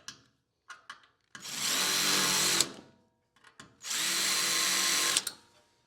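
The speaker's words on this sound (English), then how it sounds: "We're going to drill straight through this frame" Two long bursts of a power drill whining through a metal boat frame, each lasting over a second, separated by a pause with small clicks and handling noises.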